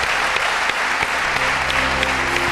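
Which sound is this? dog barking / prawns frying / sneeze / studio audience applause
studio audience applause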